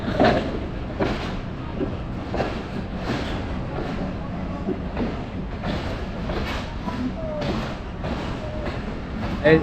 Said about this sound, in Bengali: এখন আমরা নাটোর স্টেশন থেকে ছেড়ে চলে যাচ্ছি